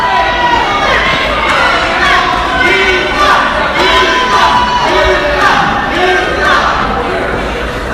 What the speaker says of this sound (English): McCarthy getting the crowd behind him even more now.